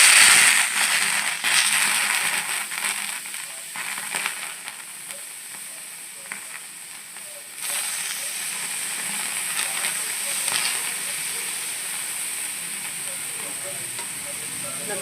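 A spoonful of pigeon peas (turi) roasts on a hot griddle, giving a close, steady hiss and crackle with light ticking, louder at first and then settling to an even sizzle.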